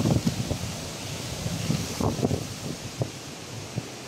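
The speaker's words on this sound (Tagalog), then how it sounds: "Ang lakas ng hangin." Strong wind gusts beside a high bamboo footbridge, roaring steadily and buffeting the microphone with rumbling thumps and rustling throughout, loud and close.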